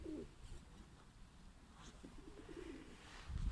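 Pigeons coo softly in coops holding several breeds at a loft in Ankara, low throaty calls repeating at a moderate distance with steady background noise and no talking.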